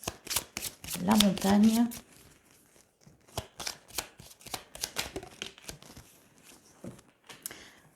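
Tarot cards handled and laid down during a sentimental reading, giving repeated crisp shuffling and flicking bursts close by, interleaved with someone speaking.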